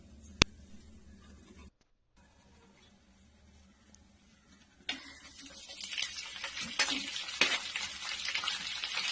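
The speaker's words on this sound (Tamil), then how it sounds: "அதில் ஹோல் ஸ்பைசஸ் எல்லாம் சேர்த்து நல்லா வாசனை வர அளவுக்கு நல்லா வதக்கி விட்டுக்கலாம்" After a quiet stretch with a single click, a loud crackling sizzle of whole spices frying in hot oil for pea rice starts up and continues steadily.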